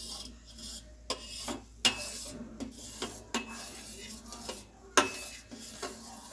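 Curdling milk being stirred in a pot while making rasgulla: quiet, irregular scrapes and knocks of a spoon against the metal, with soft bubbling between them.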